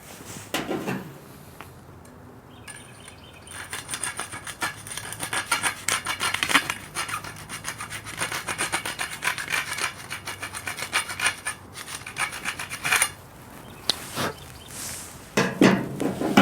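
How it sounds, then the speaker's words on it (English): A file rasps back and forth to remove a burr from around a drilled hole, with close, scratchy rubbing strokes in irregular bursts and short pauses. "So I'm just going to get rid of that burr."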